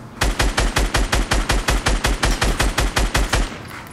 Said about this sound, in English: Just light it up with a minigun.